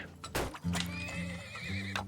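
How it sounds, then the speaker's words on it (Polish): Horses in the oil-drilling game Turmoil, with several neighs and whinnies over clip-clopping hooves, all quick and fairly faint game sound effects overlapping within a couple of seconds. "Ulepszamy, dajemy więcej koni."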